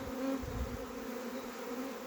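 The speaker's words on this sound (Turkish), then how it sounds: "Kovanın önünde havadalar." Honeybees from a captured swarm hover in front of their hive, a steady, dense buzz of many insects that holds continuously and close throughout, with no talking.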